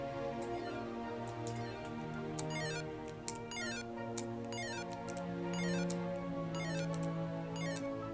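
Soft electronic bloop tones from a Stormblaster lightsaber's volume menu repeat in quick pairs over a steady background hum, faint and close, with no talking.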